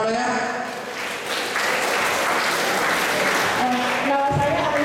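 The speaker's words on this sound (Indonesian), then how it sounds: "ya tepuk tangan" Applause from students at a school orientation session on class rules and manners, a dense burst of clapping mixed with voices and room noise.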